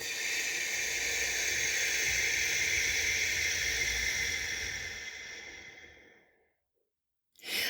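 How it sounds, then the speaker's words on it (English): A physiological sigh: a long, steady, breathy exhale heard close up as a broad airy hiss that slowly fades into silence, followed by the sharp start of a fresh breath at the very end. "physiological sigh, Andrew Huberman popularized it, and it's double inhale and long exhale"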